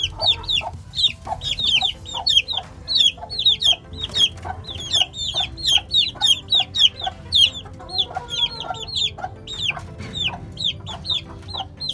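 Hen and chicks in a rooftop coop, steady soft clucking from the hen beneath high, rapid peeping of chicks throughout, close by with no talking.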